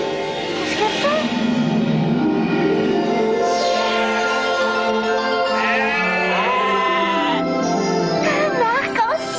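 Cartoon sheep bleat in a children's animated series, several wavering calls overlapping a continuous music score that runs beneath them throughout.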